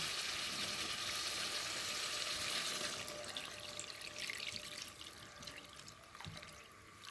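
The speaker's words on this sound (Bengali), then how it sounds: "এবার আমি পরিমাণ মতো জল দিয়ে দেবো।" Water poured into a pan of fried, well-cooked spices for a lentil fritter curry, a steady broadband rush that eases after a few seconds into softer bubbling and simmering, close and alone without talk.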